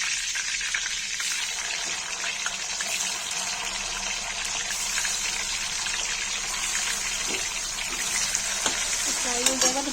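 Food for paneer baingan sabji fries in oil, a steady broadband hiss and bubbling sizzle running throughout, close and even, with a few faint clicks toward the end.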